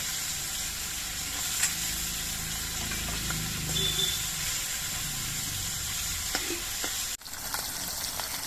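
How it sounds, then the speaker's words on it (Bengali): Amudi fish coated in spices fry in hot oil, a dense continuous sizzle with faint clinks, then a sudden drop and a quieter crackle near the end. "আমি সবগুলো মাছ একবারে ভাজবো না আমি দুবারে মাছগুলোকে ভেজে নেবো"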